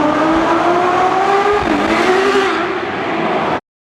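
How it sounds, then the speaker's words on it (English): Inside a tunnel, a Ferrari F12 TDF with a V12 accelerates hard, its engine note climbing loud and close, dipping briefly at a gear change, then rising again with echoing reverberation. "Awesome tunnel acceleration."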